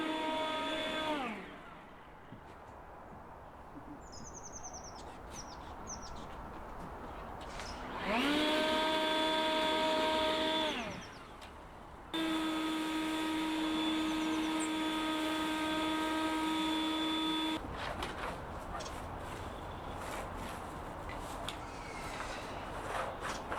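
Cordless leaf blower whirring in several bursts, spinning up with rising whine, holding a steady tonal drone, then cutting off; close and fairly loud, with quieter outdoor background between runs.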